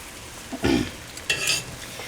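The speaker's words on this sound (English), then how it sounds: "So you can hear it in there, but once this all gets sauteed, it'll look good and moist." Fresh vegetables for a pesto chicken soup sauté in a pan, a low sizzle under two short bursts of stirring and scraping against the pan.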